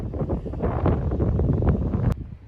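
Strong wind gusts buffet the microphone on a coastal golf course beside the ocean, a steady low roaring rumble that swells and eases, loud and close with no voices.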